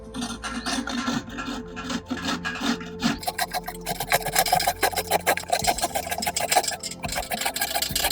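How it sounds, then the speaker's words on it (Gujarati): Red carrots being grated by hand for carrot halwa, a steady fast rasping scrape that repeats in quick strokes, close and fairly loud, with no talking. "મસ્ત મજાના લાલ ગાજર છે, એને સાફ કરી ધોઈ અને છીણી લઈશું"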